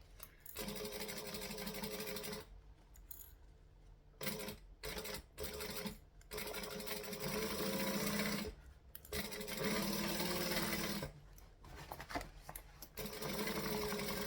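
A sewing machine stitches a Traudy Triangle Bag at a joining stitch length, its fast close whirring running in several long bursts separated by short pauses.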